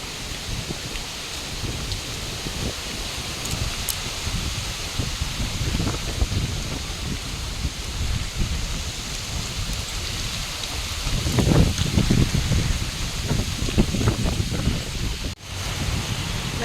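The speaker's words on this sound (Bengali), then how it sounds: "শব্দ শোনো হাওয়ার।" Strong wind gusts through roadside trees, a steady broadband roar with rustling leaves and patter like rain, swelling louder for a few seconds near the end.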